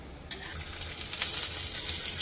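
Chopped onions dropped into a pan of golden-browned coconut frying in oil, giving a steady close sizzle with a brief clatter as they go in, no talking.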